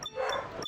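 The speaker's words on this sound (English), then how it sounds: "I'm sorry if you hear the dog barking" A dog barks in the background, a short yipping bark with a whimpering edge, heard faintly and somewhat muffled as if from another room.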